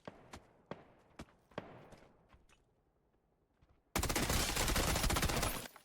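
SMG fire in the console shooter PUBG, first as a few sharp separate shots with quiet gaps, then a loud continuous burst that fills the final two seconds.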